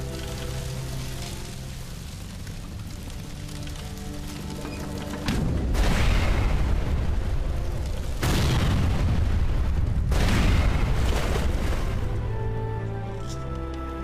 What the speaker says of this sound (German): Oder wir bauen Kriegsschiffe, die ihn mit Kanonen traktieren.